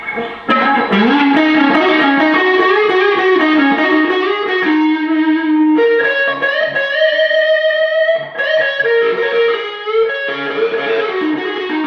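A 1980 Gibson Les Paul Custom electric guitar with a boosted, slightly overdriven tone plays bluesy bends and sustained notes, loud and close, with no voices.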